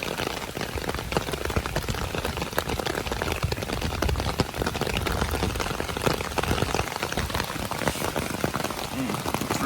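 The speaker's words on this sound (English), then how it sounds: "It's raining." Steady rain pattering on a tent during an Appalachian Trail hike, a dense continuous hiss of drops filling the whole clip at close range.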